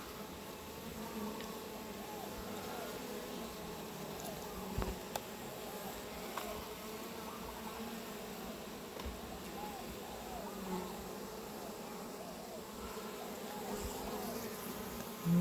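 Dense, continuous hum of many bees buzzing around an open hive nearby, steady and even throughout, with occasional faint clicks.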